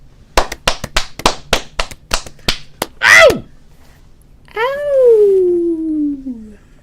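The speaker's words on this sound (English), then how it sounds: "Let's clap it in." Two vampire talk-show hosts clap about a dozen sharp, evenly spaced claps close up, followed by a whooping vocal yelp and a long descending howl-like cry.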